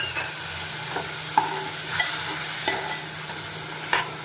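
Spice masala for surmai kalvan sizzling in a pot after a splash of water, a soft steady hiss with a few light clinks of stirring at regular intervals, nobody speaking.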